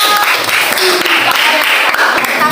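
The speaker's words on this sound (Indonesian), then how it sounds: "Tepuk tangan untuk kelompok 5." Clapping for a student group in a classroom presentation session, a brief burst of scattered hand claps from a small crowd with voices mixed in.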